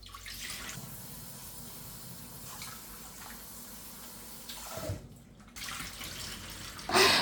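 Running tap water pours steadily over bloody cut meat being rinsed in a sink, a continuous close splashing that dips briefly near the end before surging louder.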